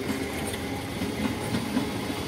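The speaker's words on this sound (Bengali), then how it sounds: "লোকাল ট্রেন বেরিয়ে যাচ্ছে, হাওড়া যাচ্ছে" Local train departing for Howrah on the Bankura–Masagram line, a fairly faint, steady rolling rumble with rhythmic wheel clatter heard from nearby, no talking.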